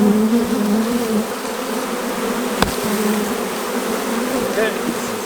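Dense, continuous buzzing of a large honey bee swarm during a hive removal, loud and close with a steady droning hum and a brief sharp tap partway through.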